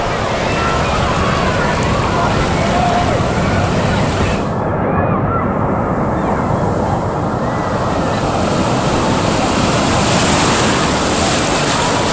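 A wave rolls through the Typhoon Lagoon wave pool, recorded from shallow water as a loud, continuous roar of rushing surf and spray, with heavy wind buffeting on the microphone throughout.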